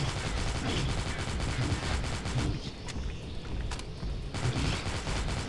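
Continuous automatic gunfire in the Dead Trigger 2 mobile game, played on iOS with a Dual Shock 3 controller, dense loud rattling bursts that dip briefly mid-way before resuming.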